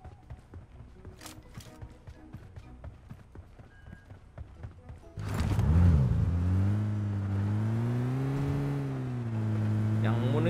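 A car engine in the mobile battle royale game PUBG Mobile starts up midway, a loud droning motor with wavering revs following a patter of lighter game sounds.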